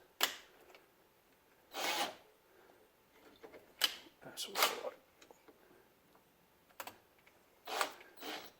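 Hornady neck turning tool shaving the neck of a cartridge case set to eleven thousandths, giving faint intermittent scraping and rasping bursts with quiet pauses between them.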